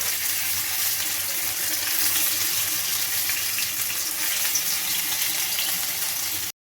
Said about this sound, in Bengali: এবার আমি বেবিকর্নগুলো অল্প অল্প করে দিয়ে ভেজে নেব।